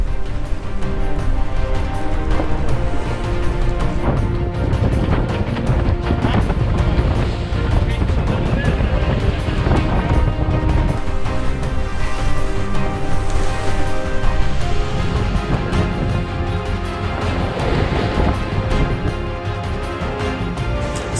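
Strong wind and rushing waves roar steadily around a sailboat in rough conditions off Guatemala, a dense, loud, continuous wash with no clear breaks.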